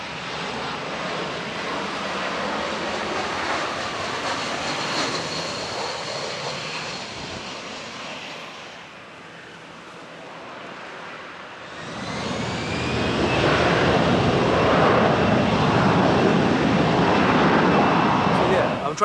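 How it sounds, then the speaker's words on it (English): Jet airplanes roar through a takeoff, a steady loud engine rumble that dips briefly and then swells louder again, heard from some distance. "I'm sure you can still hear it, but there are planes taking off."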